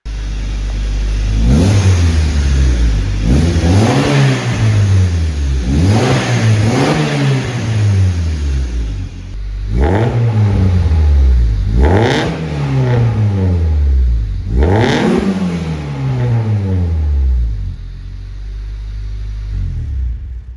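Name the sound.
car engine revving with exhaust and turbo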